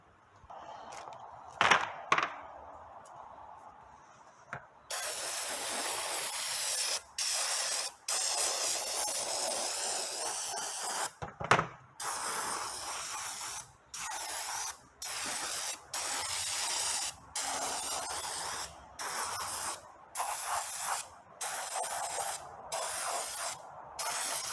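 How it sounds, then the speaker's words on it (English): Brake cleaner hisses from an aerosol can onto the valve cover area of a Toyota 2.4-liter 2AZ-FE engine, after a few faint knocks, in loud sustained bursts broken by brief pauses. "we're going to clean this off really well using some brake cleaner"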